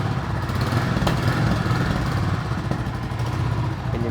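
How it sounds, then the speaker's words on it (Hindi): A 2026 Royal Enfield Classic 350 single-cylinder engine idles and revs through its exhaust, a loud, steady, thumping mechanical drone close up with slight throttle swells. "इंजन साउंड सुनो, एग्जॉस्ट नोट सुनो।"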